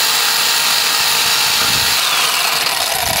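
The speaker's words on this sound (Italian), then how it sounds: "E con il trapano andate a forare i buchi presenti nel disegno." A power drill bores holes into a wall to mount a Reolink TrackMix WiFi camera, giving a loud, steady high-pitched whir with grinding variations, close by and with no talking.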